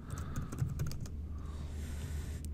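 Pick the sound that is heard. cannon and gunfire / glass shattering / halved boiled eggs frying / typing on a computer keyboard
typing on a computer keyboard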